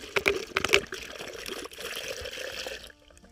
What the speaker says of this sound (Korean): 우선은 막걸리를 한 병을 여기다가 지금 부어주세요.